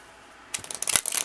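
A deck of reading cards is shuffled by hand after a quiet start, a close burst of rapid riffling and fluttering card snaps.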